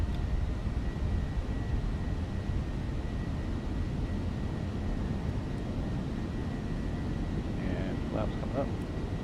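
Fenix A320 airliner on its takeoff roll in Microsoft Flight Simulator, departing Chongqing for Wuhan: a steady, loud broadband engine roar that holds throughout, with a few faint tonal blips near the end.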